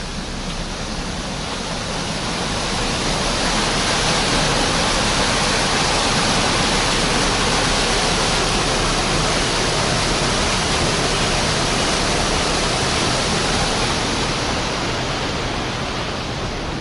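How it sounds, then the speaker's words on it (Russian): Steady, loud rush of water pouring through dam outlet pipes from a lake after heavy rain, a dense broadband roar that holds constant from start to finish with no voices. "Сейчас посмотрим, какой идет сброс по трубам."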